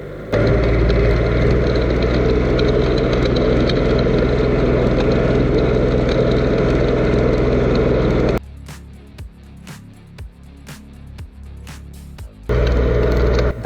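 A mini tractor with a mounted potato digger runs in fifth gear, its loud steady engine drone dominating, then briefly dropping to quieter crackling and clattering before the engine roar returns.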